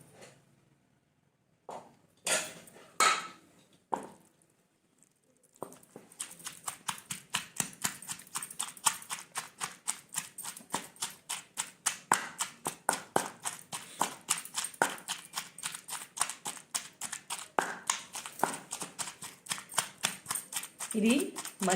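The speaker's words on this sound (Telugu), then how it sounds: "రోట్లో వేసుకొని నూరుకుందాం" Cooked ivy gourd pieces are pounded in a stone mortar for Andhra-style chutney, a rapid run of sharp knocking strikes after a few scattered hits, continuing rhythmically with brief pauses.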